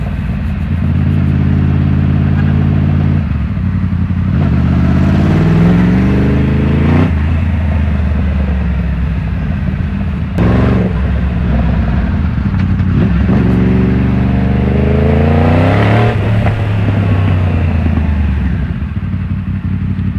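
A Yamaha MT-10 motorcycle on a test ride, its engine loud and close as it revs repeatedly, with the pitch climbing in several long surges before dropping back between them.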